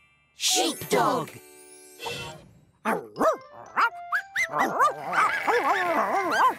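A dog lets out a quick run of yips and barks in bursts, mixed with voices, sounding bright and close.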